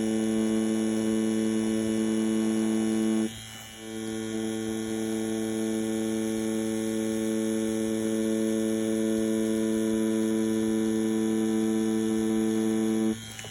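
A tattoo machine running at 8 volts while pulling lines with an InkClaw needle cartridge, giving a steady, close electric hum with a brief dip near the start before settling back into the same drone.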